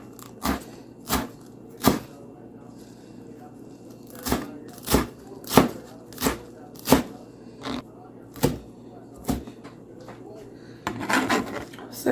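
A knife chops cilantro on a cutting board in a home kitchen, giving sharp, separate knocks at an uneven rhythm, close and clear, with a quick flurry of cuts near the end.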